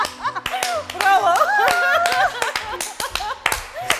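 An audience claps for a singer on a TV variety show, with scattered sharp claps that come in bursts over her singing and music.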